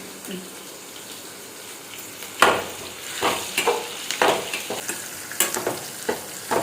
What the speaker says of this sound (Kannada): ಸೊ ಆನಿಯನ್ನ ಗೋಲ್ಡನ್ ಬ್ರೌನ್ ಕಲರ್ ಬರೋವರೆಗೂ ಕೂಡ ಚೆನ್ನಾಗಿ ಹುರ್ಕೊಳ್ಬೇಕಾಗತ್ತೆ